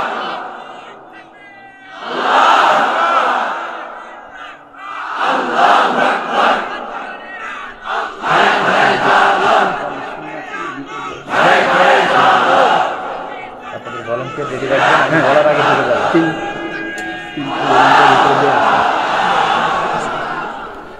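A large crowd at an Islamic religious gathering chants takbir in unison, loud repeated roaring call-and-response bursts rising and falling about every three seconds.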